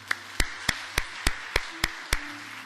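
Eight sharp, evenly spaced claps ring out in a church during a worship service, striking in a steady rhythm at a moderate distance, with a faint low hum underneath.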